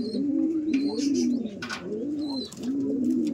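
A pair of semi-adult white Lakkha pigeons coo in repeated low, rolling phrases close by, with a few faint higher chirps between the calls.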